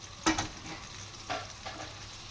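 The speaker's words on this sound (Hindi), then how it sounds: "हम इसको आहिस्ता आहिस्ता साथ साथ हिलाते रहेंगे और उल्टा पलटा के ना बस हम इसको हल्की आंच पे पका लेंगे।" Chicken stirred and turned in a pan over a low flame, with a soft steady sizzle broken by a few louder scraping stirs.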